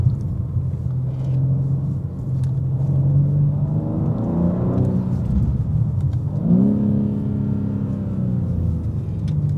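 A BMW M car engine rumbles from inside the cabin while driving, pitch climbing through gears with steady revving, a drop around a shift, then rising again under load.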